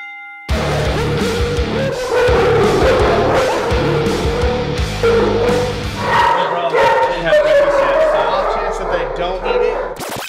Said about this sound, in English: we definitely underestimated the power of these dogs barking.